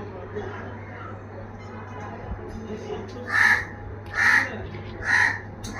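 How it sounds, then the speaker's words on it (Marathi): Three loud crow caws come in an evenly spaced series near the end, over a low background hum and faint talking. "तुम्हाला आहे ना हे कावळ्याचा आवाज येत असेल,"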